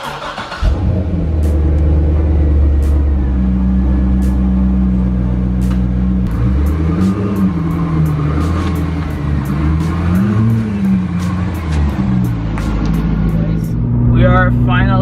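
A C6 Corvette drives and accelerates, its engine droning loud and steady throughout with rising and falling pitch as it revs, while a person talks over it.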